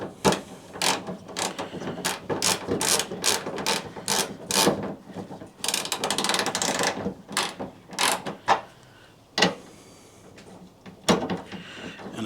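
A ratchet tightens the tailgate latch on a 2004-2012 Chevy Colorado LS, giving repeated sharp clicking bursts in irregular runs with short pauses, close and fairly loud, with no talk.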